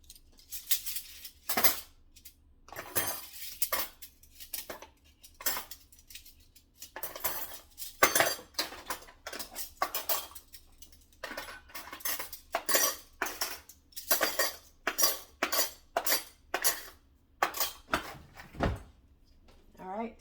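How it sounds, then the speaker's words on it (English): Dishes and cutlery being put away, a rapid series of close clinks and clatters of plates and silverware with short pauses between, while someone talks now and then. "Okay, quickly put these dishes away."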